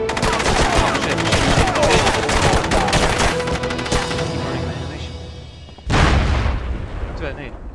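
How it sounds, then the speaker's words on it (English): Gunfire crackles in the SOCOM Combined Assault video game as dense, rapid shots and bursts, followed by a sudden louder blast near the end, with game voices mixed in. "Took a shot."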